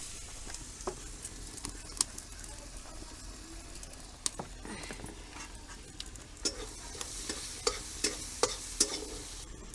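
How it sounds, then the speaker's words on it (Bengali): Garlic sizzles in melted butter in a kadai, a soft continuous frying hiss broken by sharp clicks and scrapes of a spatula stirring the pan, close and fairly quiet with no talking. "বাটার মধ্যে আমি রসুনটা দিয়ে দিচ্ছি"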